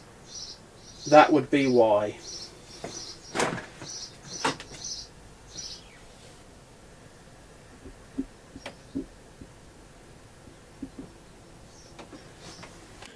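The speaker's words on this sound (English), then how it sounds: "Hopefully the sparrow doesn't get too annoying." A sparrow chirps loudly indoors in a quick burst of sharp repeated tweets, followed by scattered short clicks and faint knocks as someone talks briefly.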